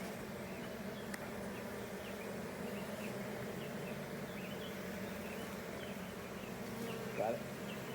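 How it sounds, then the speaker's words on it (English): Caucasian honeybees buzzing steadily around an open hive frame, a dense continuous drone of many insects close by with occasional brief sounds over it. "Also, Dolly, I'm thinking that with how frugal these bees are"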